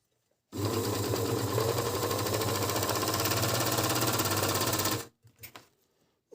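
An Agat DonLock 54D6 six-thread overlock sewing machine runs steadily for about four and a half seconds as it stitches fabric, a loud, close, continuous mechanical whir that stops abruptly, followed by a few faint handling clicks.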